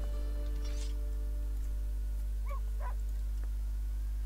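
A dog barks twice in quick succession in a video game, short sharp yelps set over a constant low electrical hum with no talking.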